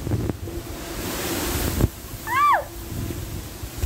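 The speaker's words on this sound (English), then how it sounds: "it's a storm here in Varanasi" Storm wind buffets the microphone in Varanasi, a loud, gusty roar rising and falling, broken by a sharp thump and a brief high whooping cry; a voice speaks faintly underneath.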